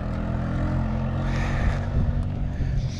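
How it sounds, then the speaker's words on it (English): A kid rides a four-wheeler ATV on an icy road, its engine droning loud and steady throughout with harmonic hum and rising, swelling revs. "crazy four-wheeler kid doing crazy four-wheeler stuff"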